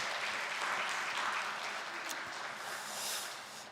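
A church congregation applauds during a Sunday worship service, a steady wash of many hands clapping at moderate level, continuous throughout with no speech over it.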